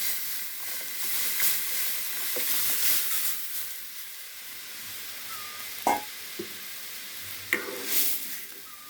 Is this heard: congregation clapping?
no